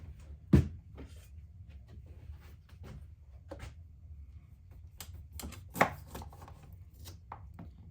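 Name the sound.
cutting limes in half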